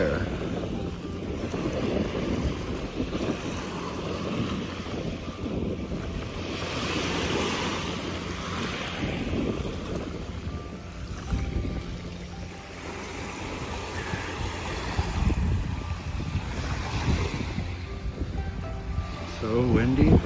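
Wind buffeting a microphone at the beach, a continuous low rumble with gusty swells over distant surf, while people talk intermittently throughout.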